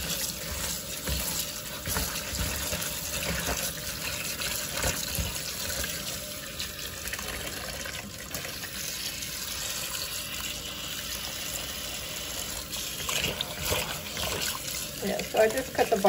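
Tap water runs steadily into a sink to soak watercress, a continuous close gushing stream, with a person talking over it at times.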